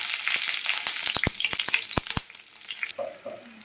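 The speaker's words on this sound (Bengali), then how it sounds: "তেল গরম হয়ে গেছে, এর ভিতরে দেবো আমি হাফ চামচের মতো কালো জিরে" Black cumin seeds and six slit green and ripe chillies sizzle in hot oil for a Bengali puti fish curry, a steady crackling fry broken by several sharp pops and spits, close and fairly loud with no talking.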